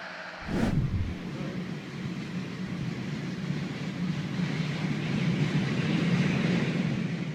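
Train rumbling past with a sharp burst near the start, then a steady low roar of rolling wagons that swells slightly toward the end, fairly close and without talk.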